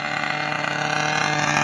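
A gas-powered Losi 5ive-B RC car idling with its clutch or flywheel giving off a steady tonal hum, a close, continuous buzzing drone with a fast engine flutter throughout.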